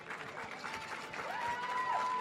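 An audience claps at the Miss Universe 2017 preliminary competition at Planet Hollywood Resort and Casino, a steady wash of applause that swells slightly toward the end, with a faint tonal sound rising through it.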